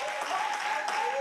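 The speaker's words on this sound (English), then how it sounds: "Clap your hands for him." A church congregation claps continuously at a moderate level while voices ring out over the clapping.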